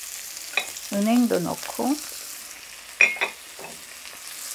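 Chopped abalone frying in salted butter in a pan over low heat, with ginkgo nuts added. A soft, steady sizzle runs throughout, with a few stirring scrapes, under brief spoken words.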